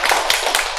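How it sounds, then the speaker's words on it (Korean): Church congregation applauding during a Sunday service after the praise team's singing, a dense, steady clatter of many hands clapping together without pause, close and loud throughout. "우리 찬양단에서 박수 한번 해줍시다"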